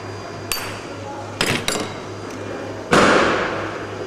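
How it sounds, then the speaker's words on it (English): A hammer strikes several times during a Game Boy Color repair: a single sharp tap, then a quick pair of hits, and finally one louder ringing metallic blow, each clear against a low steady hum. "I'm gonna use this side of the hammer."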